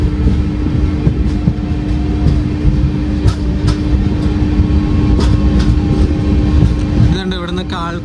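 Ernakulam–Velankanni Express on its first run with LHB coaches, departing Punalur with a banker locomotive attached: a continuous loud rumble of the moving train with rhythmic clatter, and a voice briefly heard.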